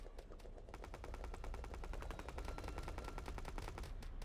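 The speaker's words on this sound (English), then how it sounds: "shooting at the other Harvester" Turrets in the video game Silica fire on a Centauri Harvester in a fast, rapid-fire stream of evenly spaced shots, faint in level, with no talking.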